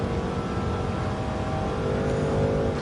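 Ferrari 246 Dino GT racing engine in Gran Turismo 7, a steady droning roar with a slight rise in pitch, heard alone at moderate level during a historic sports car race.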